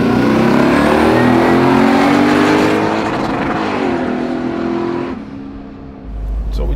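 An 800-horsepower twin-turbo Chevelle SS doing a burnout, its engine roaring loud and steady with a sustained high rev, easing off slightly toward the end.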